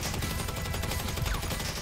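Dense gunfire in GTA Online, a continuous rattle of rapid shots with no clear gaps, loud and close.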